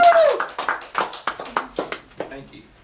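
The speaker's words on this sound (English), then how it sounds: "So let's give a nice round of applause for Reverend Peter Graham." Scattered applause for Reverend Peter Graham at a community gathering, a handful of distinct claps in a loose rhythm, close and fading out after a couple of seconds.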